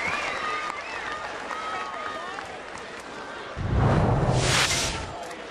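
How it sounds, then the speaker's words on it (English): Baseball crowd applause at a Baltimore at Pittsburgh game swells from a distant murmur into a broad, loud wash of clapping and cheering for Gregory Polanco after a hard-hit ball, with commentators talking over it. "he's getting a nice round of applause"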